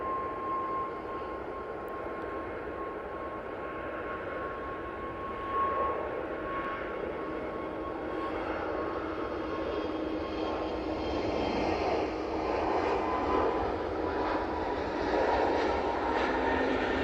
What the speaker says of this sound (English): That Easyjet A320 Neo is off to Gibraltar.